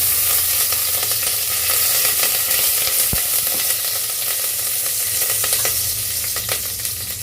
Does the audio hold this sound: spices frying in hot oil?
yes